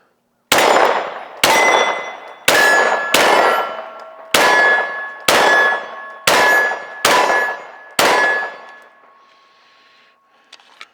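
Steel shooting target painted white rings out with about nine sharp metallic clangs in uneven succession, each impact ringing and decaying briefly before the next, loud and close with no talk.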